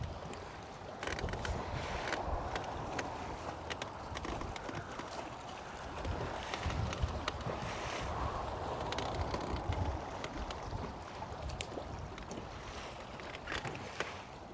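Wind gusts across open water, with shallow eelgrass near the edge, as a boat moves along; a steady broadband rush and buffeting fills the whole stretch, loud and constant with occasional sharper knocks.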